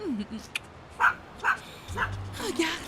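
Small dogs yip and bark in short, high bursts, several in quick succession, while a person speaks briefly nearby.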